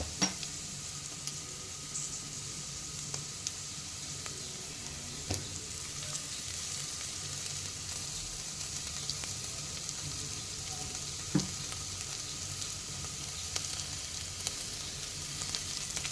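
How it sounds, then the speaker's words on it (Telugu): Fresh ginger garlic paste fries in a pan after browned onions for a flat bean tomato curry, giving a steady, even sizzle with a few soft stirring clicks, no talk. "ఇలా ఫ్రెష్ అల్లం వెల్లుల్లి పేస్ట్ వేసాక పచ్చివాసన పోయేంత వరకు ఇట్లా వేయించుకోవాలి."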